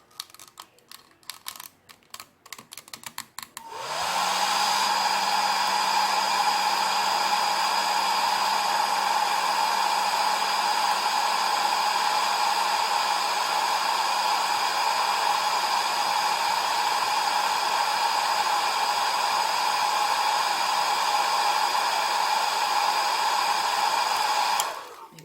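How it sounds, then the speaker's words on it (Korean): A hair dryer runs steadily for about twenty seconds, drying thickly applied silver clay paste on the tip of a leaf-shaped earring, loud and close with a constant whir after a few seconds of handling noise. "드라이기로 건조할게요."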